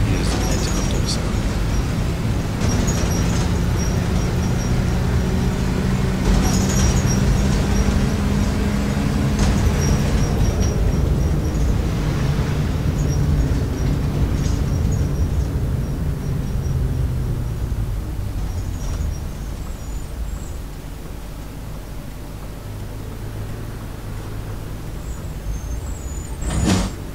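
The engine of a LAZ 695 bus runs close by with a steady, loud diesel rumble and occasional clanks, settling into a lower, quieter idle toward the end.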